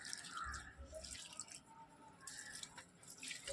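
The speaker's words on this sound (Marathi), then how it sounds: "इथे हे पाणी घालून घेऊया" Water trickles and splashes faintly into the soil of potted plants on a small balcony, with scattered drips and soft gurgles close by.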